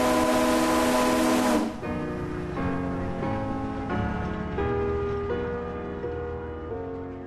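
Steam whistle blown at the Western Minnesota Steam Threshers Reunion, one loud sustained blast that cuts off sharply, followed by a band of music-like tones carrying on without talk.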